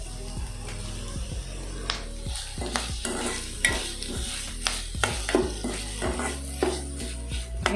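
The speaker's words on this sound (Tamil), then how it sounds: "பாருங்கள், தேங்காய் போட்டாச்சு, அதுவும் நல்லா ஃப்ரை ஆகிடுச்சு சூப்பராக" Grated coconut and curry leaves frying in a pan for drumstick flower poriyal, a steady close sizzle broken by repeated scraping stirs and clinks of the spoon, with no voices.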